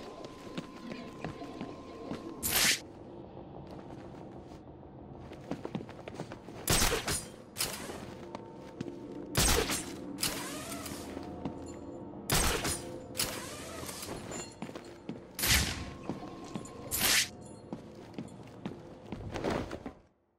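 Gunfire from a remotely controlled gun in the Batman: Arkham City video game, sounding as loud, sharp bursts spaced every couple of seconds over a low background with footsteps and thuds between them.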